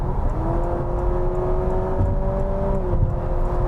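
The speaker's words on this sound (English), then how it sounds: "Did you hear those gear changes?" A 2026 Honda Civic hybrid drives with a steady engine and road drone, and a whining tone rises then drops as it shifts gear, loud and continuous with no talk.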